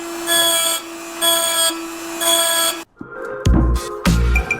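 A power drill whirs in three steady bursts with pauses between, then a few louder grinding, scraping hits as the bit grinds metal.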